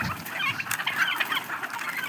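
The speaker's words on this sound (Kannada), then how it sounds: "ಇದು ನೋಡ್ರಿ ನಮ್ದು ಜವಾರಿ ಕೋಳಿ ಫಾರ್ಮ್ ಗದಗ್ನಾಗ ಐತಿ." Native country chickens on a farm in Gadag, clucking close by in quick, overlapping bursts, with several birds calling at once throughout.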